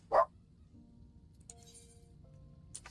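A single short dog bark near the start, then quiet room tone with faint scattered small sounds in the background.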